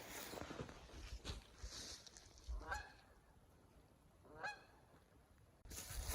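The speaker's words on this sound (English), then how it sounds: "Geese out there somewhere." Geese honk outdoors in winter woods near sundown, two distinct calls at a moderate distance rising above steady background hiss, with a rustle and a sharp noise at the start and end.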